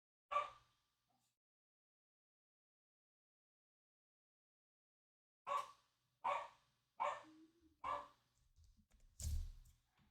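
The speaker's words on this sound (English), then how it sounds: "Dogs be barking." Distant dogs bark faintly: one bark, a long silence, then a rhythmic series of five or so barks a second or so apart.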